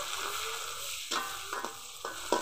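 Chopped onion, tomato and grated garlic sautéing in a pan, a steady soft sizzle with a few quick stirring scrapes of a spoon against the pan, no voices.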